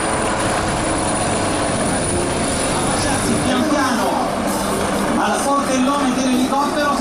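An HH-139 search and rescue helicopter at the Jesolo Air Show, its loud, steady rotor and turbine roar filling the air while an announcer speaks over the public address.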